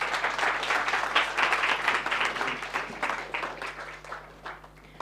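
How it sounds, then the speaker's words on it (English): An audience at a startup pitch event applauds a presenter on stage, a moderately loud wash of many hands clapping that swells early, then gradually thins and softens toward the end. "Big applause."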